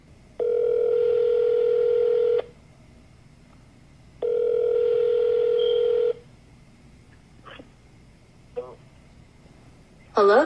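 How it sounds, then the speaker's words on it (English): Ringback tones on a prank phone call placed from a jail, two long steady tones separated by silence, followed by faint clicks and a short burst of a voice at the end. "I'm gonna call my homeboy Keon up right now"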